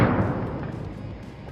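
An AK rifle launches a 12-ounce tear-gas grenade can: one heavy, close boom right at the start, with a long rumbling tail that fades slowly.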